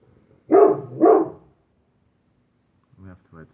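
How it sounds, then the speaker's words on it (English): A dog barks twice loudly and close by, then after a short silence gives a few fainter, quicker barks. "We have to wait for the dog to stop freaking out."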